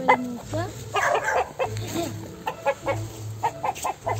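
Chickens cluck in short bursts close by, mixed with people talking and a dog-like bark or two, the clucks choppy and irregular.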